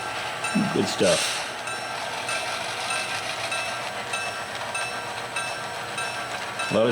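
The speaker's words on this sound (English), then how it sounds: "A lot of trains rolling around over here." Model trains rolling around a railroad layout, a steady rumbling and clicking of wheels on track, with a brief voice near the start.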